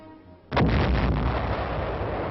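A single massive blast from an M65 atomic cannon erupts abruptly after a quiet moment, followed by a long, loud rumbling roar that sustains without fading.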